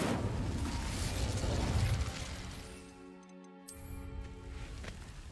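An Incendio fire spell is cast in Hogwarts Legacy, a rushing whoosh and crackling burst that swells, briefly drops away, then returns with a ringing magical shimmer.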